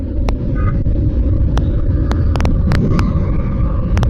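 A motorbike running along a highway at about 70 km/h makes a loud, unbroken roar of engine and wind buffeting, with scattered sharp clicks and ticks over it and no speech.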